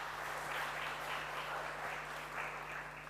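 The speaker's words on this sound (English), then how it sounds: "can we just give a round of applause to this gentleman," A round of applause from the audience at a university career and internship fair, heard as a soft, even wash of many hands clapping at a distance, sustained steadily throughout with no speech over it.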